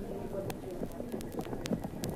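A horse gallops with irregular, muffled hoofbeats under a film soundtrack, moderately faint and mixed with background noise and possible voices.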